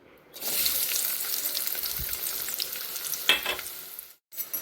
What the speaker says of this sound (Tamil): பாயல் சூடானதும் சின்ன வெங்காயத்தை சேர்த்துக்கலாம்